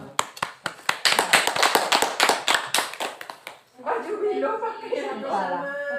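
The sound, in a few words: applause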